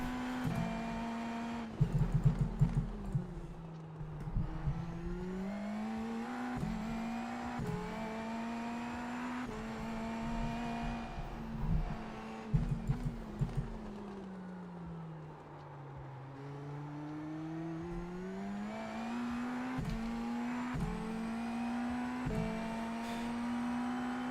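Indy NXT open-wheel race car engine at St. Petersburg in the iRacing sim, holding a steady high drone with repeated upshifts, downshifts and rising-falling revs through corners, continuous and fairly loud with no talk.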